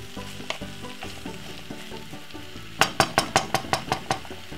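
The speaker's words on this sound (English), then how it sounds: "we're just gonna simply stir fry this off" Curly leaf kale with garlic stir-frying in a pan: a steady sizzle, then a quick run of about eight sharp, rhythmic scraping strokes as the greens are tossed.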